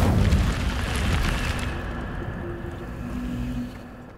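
An Incendio fire spell cast in Hogwarts Legacy erupts as a loud, rumbling burst of flame that swells at once and then settles into a sustained low roar, fading over a few seconds with no voices.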